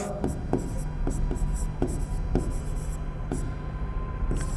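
Chalk or marker scratches across a board during a Class 10 maths lesson on graphs: repeated short strokes and taps in an uneven rhythm, close and steady, over a faint room hum.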